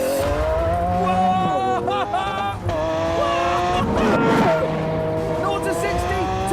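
A Lamborghini Aventador accelerating hard at high speed, its engine note rising loudly through the gears with a clear upshift midway, heard close from inside.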